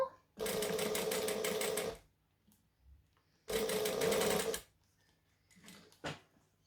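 A sewing machine stitching a fabric wristlet runs in two steady whirring bursts of rapid needle clatter, about one and a half seconds then one second long, close up, with brief quiet handling sounds between and after.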